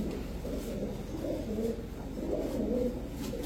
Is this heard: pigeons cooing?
yes